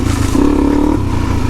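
A Suzuki DRZ 400e dual-sport motorcycle loaded with gear hums steadily while being ridden, its engine note rising briefly in pitch mid-way and then settling, with continuous rumble and road noise throughout.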